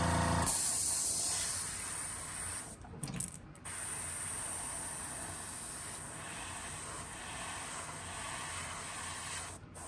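Spray paint hisses steadily onto a crankbait lure around a 3D stencil, one long close burst broken by a brief pause, then continuing.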